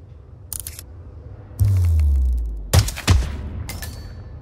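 Sniper rifle shots in Hitman 2: Sniper Assassin ring out loud and close: a sharp crack followed by a deep rumbling boom that slowly decays, then two quick heavy reports and fainter distant pops against near silence.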